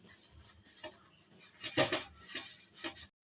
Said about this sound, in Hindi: सबसे पहले आपने इस तरीके से इसके अंदर ऑयल लगा लेना है अच्छे से